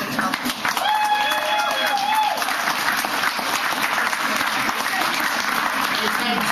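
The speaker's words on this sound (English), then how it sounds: "Give me another enthusiastic round of applause for Senator Tommy Tomlinson." A rally crowd in Northampton applauds Senator Tommy Tomlinson with steady, dense clapping and scattered cheers, filling the space continuously from start to finish.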